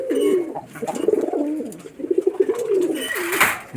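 Giribaz pigeons from Rajshahi coo in repeated low, throaty rolling phrases close by, with brief rustling and a sharp noise burst near the end.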